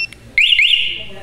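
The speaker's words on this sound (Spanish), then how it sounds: "desactiva la alarma y vemos cómo ilumina" A BNY two-way motorcycle alarm gives a short, loud electronic chirp-and-warble tone as it is switched off by remote, preceded by a faint beep, with no talking.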